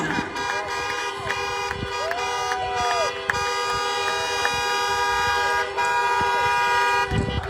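Car horns honk repeatedly in a drive-in rally crowd in the Rio Grande Valley, several overlapping toots of varying pitch sounding in bursts while a speaker talks over them outdoors.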